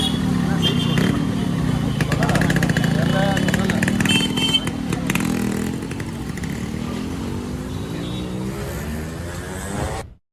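Yamaha RXZ two-stroke motorcycle engine running: a loud, steady buzzing drone that rises and falls slightly and fades at the end, with people talking over it.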